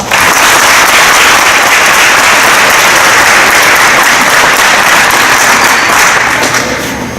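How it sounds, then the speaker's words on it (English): Loud, dense applause greets a Special Olympics global messenger and board member at a Spread the Word to End the Word event in Illinois, sustained and close throughout before tapering slightly. "please give him a warm welcome of applause"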